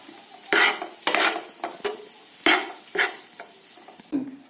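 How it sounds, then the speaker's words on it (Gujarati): Half a spoon of garlic and chili paste being stirred into a mixture, a series of about eight distinct scraping, squelching strokes with short pauses between them, close and clear with no talking. "અને એને બરાબર મિક્સ કરી લેવું"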